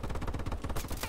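Rapid pistol gunfire in Call of Duty: Advanced Warfare, a quick run of sharp, closely spaced shots filling the short burst.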